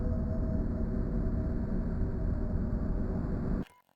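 Loud ambient drone from the shield system in the roguelite arena FPS Gunhead, a dense, steady wash of noisy hum that cuts off abruptly near the end, with no talking.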